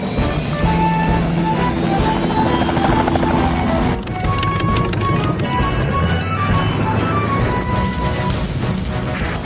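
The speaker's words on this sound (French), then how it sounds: "On va avoir besoin de Tom Thomas et de son hélicoptère, ainsi que de Bessie en soutien." A helicopter's rotor thrums continuously and loudly throughout, with a steady chopping drone and a brief dip midway before resuming.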